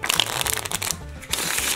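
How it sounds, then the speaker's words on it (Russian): Bee Silver Stinger playing cards shuffled by hand, a close, steady papery riffling flutter running nearly two seconds with a brief dip midway and no talk. "Да, тасуются они превосходно."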